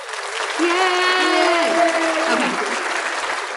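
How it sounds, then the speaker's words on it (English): Applause and cheering from a crowd, broad and steady for a few seconds, with a voice shouting happily over it. "Add the applause thing."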